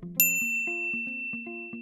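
A bright notification bell dings once at the start and rings on over a short, plucky musical jingle of evenly spaced tones, clean and close with no talk.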